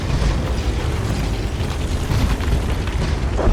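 Tank cannon fire in a combat video game, heard as a dense, sustained low boom and rumble with heavy blast energy filling the whole moment, no voices over it.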